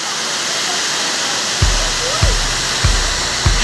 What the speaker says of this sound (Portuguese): Olha aqui, ó, a cachoeira que tem na estrada de manutenção que desce aqui a Imigrantes.